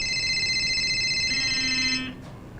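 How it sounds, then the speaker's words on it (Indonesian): An incoming phone call on a broadcast line sounds as a steady, loud electronic tone for about two seconds, then cuts off sharply as the call connects, leaving quieter line noise. "Ada penelpon yang masuk Ustaz"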